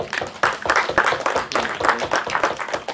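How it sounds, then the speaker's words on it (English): A small crowd claps and applauds steadily for a few seconds, the clapping dense and fairly close. "Come and give Theo a clap, please."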